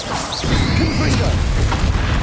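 A Confringo blasting spell explodes in a Hogwarts Legacy battle: a whooshing cast rushes into a heavy, rumbling blast that stays loud and thick throughout, with a voice briefly heard amid the noise.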